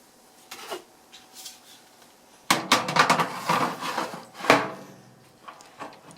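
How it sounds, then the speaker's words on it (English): Trays of meringue cookies slid into a convection oven, a few close wooden and metallic knocks and scrapes clustered in the middle, with quiet handling before and after. "We're now going to put them into our oven."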